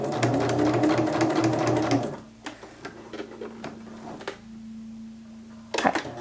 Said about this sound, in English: just pivot my work and run that stitching line so that it just comes right to that bodice piece there